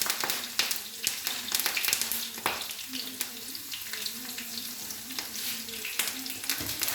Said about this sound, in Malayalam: ഇനി നമുക്കതിലേക്ക് നാടൻ കറിവേപ്പില ഇട്ട് കൊടുക്കാം.